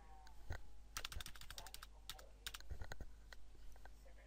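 Someone types on a computer keyboard in quick irregular bursts of clicks, close but quiet, over a steady low hum, with pauses between runs of keystrokes.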